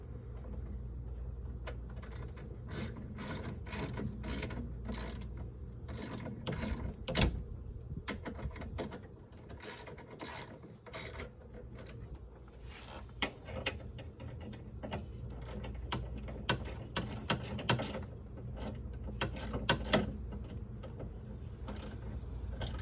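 A ratchet wrench tightens a bracket on a Honda Pilot alternator, giving repeated close, crisp clicking bursts in irregular runs with short pauses between strokes.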